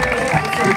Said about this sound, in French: Abdenour, sous vos applaudissements.